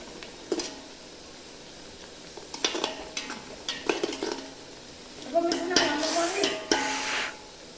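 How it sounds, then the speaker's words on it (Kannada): Fried onions get stirred with kasuri methi in a pan for green chicken sukka, with scraping spoon strokes, clinks against the metal and a steady sizzle that grows louder toward the end. "ಈರುಳ್ಳಿ ಕೆಂಪು ಆದ ತಕ್ಷಣ ಅದಕ್ಕೆ ಕಸ್ತೂರಿ ಮೆಂತೆಯನ್ನು ಬೆರೆಸಬೇಕು."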